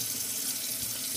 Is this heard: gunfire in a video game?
no